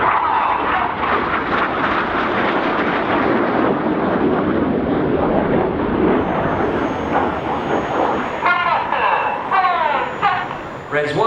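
Red Arrows jets roaring overhead during an aerobatic display at the East Fortune airshow, a loud sustained engine rumble with a commentator talking over it throughout.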